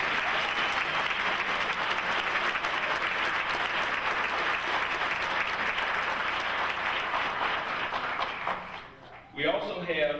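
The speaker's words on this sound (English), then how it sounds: "Can you give the stage a round of applause?" A large audience at a Navy medical laboratory technician graduation ceremony applauds in a thick, even roar of clapping that holds for about nine seconds. It then fades out as a speaker resumes.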